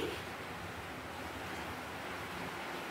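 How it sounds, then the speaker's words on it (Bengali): Heavy rain pours steadily outside a home beside a banana grove, a dense, even rushing wash that stays constant and fairly soft, with no voices. "দেখুন কীরকম বৃষ্টি।"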